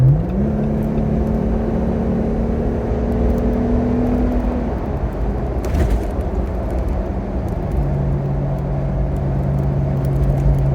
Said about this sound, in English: definitely can hear that rumble when I want to accelerate